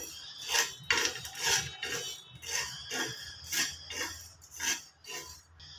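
Coriander seeds with sesame seeds dry roasting in a pan over low heat, stirred in repeated scraping, rustling strokes, each a short dry rasp in an irregular rhythm, close and fairly quiet.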